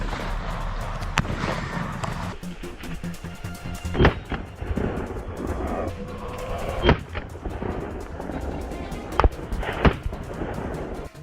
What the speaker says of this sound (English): A burst of gunfire rang out